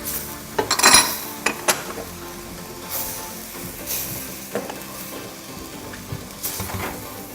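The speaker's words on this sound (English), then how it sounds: "And I'm going to get the plates for us." Dishes clatter close by in a kitchen: a burst of clinking ceramic and cutlery near the start, then sparser knocks and clinks, with a pan sizzling softly underneath and no talking.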